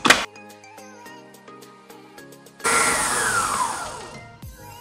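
An electric mixer beating pear cake batter starts abruptly after a few seconds of light music and runs as a loud, whirring buzz, gradually easing, before cutting off sharply.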